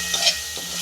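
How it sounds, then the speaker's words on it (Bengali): Spices and a little sugar frying in a pan for a vegetarian dish give off a steady, close hiss and sizzle that lasts under a second, with no talking. "অল্প চিনি দিচ্ছি, দু মিনিট কষতে নেব আমি।"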